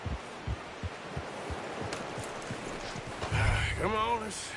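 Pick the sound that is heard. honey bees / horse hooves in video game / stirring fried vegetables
horse hooves in video game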